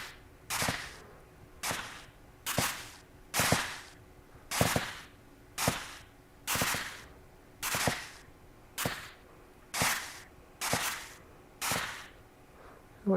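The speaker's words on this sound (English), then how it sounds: "I just thought I'd knock my microphone." Microphone knocked repeatedly during a VR gaming session, about a dozen sharp thumps at a steady, roughly one-per-second rhythm, close and fairly quiet, with no talk.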